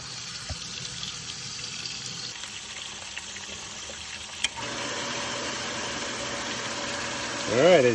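Water runs from a repaired well pump system as a steady flow that starts partway through, after quieter background hum, with a brief click and a louder swelling surge near the end.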